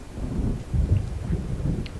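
Thunder crack in the video game Alan Wake Remastered, a low rumbling roll under steady rain and wind, with no voices present.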